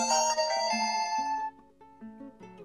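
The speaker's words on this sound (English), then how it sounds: "And that would be my phone, which I have not silenced right now." A Clash Royale phone notification plays a short, clear melodic chime of a few stepped tones, fairly quiet and heard on its own with no talking.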